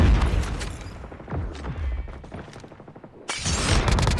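Rapid bursts of gunfire from jump shooting with a Krig 6 rifle in Call of Duty Mobile, loud and close, with clustered volleys and short pauses between them.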